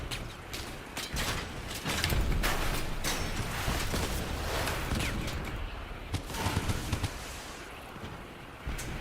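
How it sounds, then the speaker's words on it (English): Rapid gunfire in a kaiju brawling video game, dense crackling bursts and mechanical clatter running loud and continuous with sharp repeated transients. "He's shooting me in my ass!"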